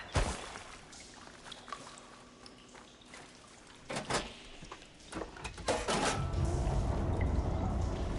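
Water in the Horizon Forbidden West video game begins flowing through pipes after a valve switch, quiet clanks and knocks building into a louder, steady rushing gurgle toward the end, with no voices.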